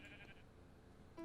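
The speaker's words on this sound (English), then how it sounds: "now we've got our sheep in here" A single sheep bleats in the Minecraft video game, a short, faint wavering cry at the start, followed by a quiet gap and a brief tonal blip at the end.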